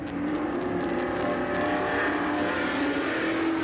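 Late model super stock race cars run down a speedway straightaway, a steady, loud engine drone filling the whole stretch with no voices over it.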